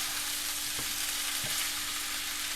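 Jamaican pepper steak fries with red onion, lots of tomato, pork and carrot, giving a steady, fairly quiet sizzle. Two light knocks of a utensil break the sound partway through, with no talking.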